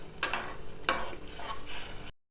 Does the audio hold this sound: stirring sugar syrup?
yes